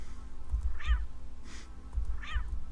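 Cat meows twice in the video game Always Sometimes Monsters, two short rising-falling cries about a second and a half apart over a low steady background hum.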